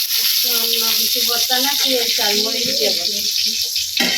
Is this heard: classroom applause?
no